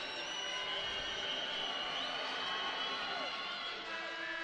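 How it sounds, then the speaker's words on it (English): A basketball crowd at a men's college game, Grand Canyon at Utah Valley, cheers and applauds steadily as a player steps off to a standing ovation from his teammates, a dense continuous roar of claps and shouts. "as Brandon Morley steps off to standing ovation from his teammates and claps."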